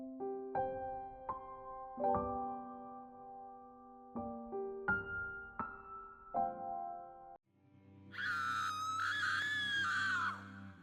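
A woman's shrill, sustained scream used as a dramatic sound effect in an Urdu audiobook, rising loudly after a sequence of ominous plucked and struck musical notes.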